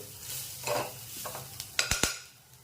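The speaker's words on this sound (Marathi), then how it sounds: "आपण जो गूळ घेतला आहे तो याच्यामध्ये टाकणार आहे। थोडं चांगलं परतून घ्यायचे।" A spoon stirs jaggery into a modak filling in a pan, giving soft scraping strokes with a light sizzle and a few sharp clinks of the utensil against the pan near the end.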